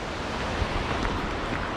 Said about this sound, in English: We're just passing by a nice waterfall here.